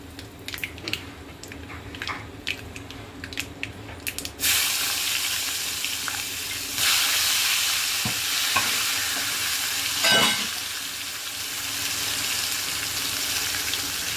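Soaked dal tipped into a hot pan with curry leaves and a little turmeric, frying with a sudden loud sizzle after a few quiet stirring clinks, then a steady hiss with brief scraping stirs.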